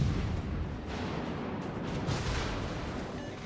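Enemy warships firing their guns in World of Warships: Legends, heard as a steady, dense rumble of distant artillery with no clear separate shots, fairly quiet and continuous throughout.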